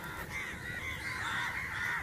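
A flock of crows calling overhead in an open outdoor setting, raucous caws overlapping steadily and fairly loud, with no voices.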